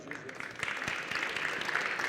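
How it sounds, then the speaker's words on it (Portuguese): Applause for an athlete at a handball goalkeeper training workshop, a soft, scattered patter of clapping from a modest group, with murmuring voices mixed underneath. "E uma salva de palmas para o atleta."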